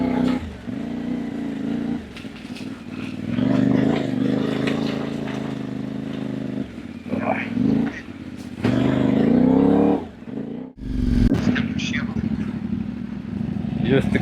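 Off-road motorcycles ride a muddy river-crossing track, engines droning and revving in uneven surges from nearby, with people talking over the noise.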